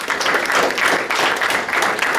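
Sustained audience applause at a high school post-prom comedy hypnosis show, a dense, steady wash of many hands clapping at even loudness throughout with no voices on top.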